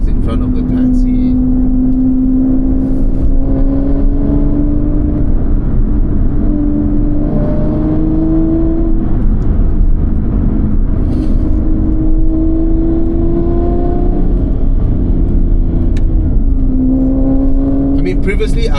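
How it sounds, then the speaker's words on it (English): A small taxi accelerates hard through its gears, its engine note climbing in steady sweeps with brief dips at each flat-shifted change, loud and continuous throughout, with people talking over it. "Flat shifted there. I mean, not full throttle, but come on, little taxi."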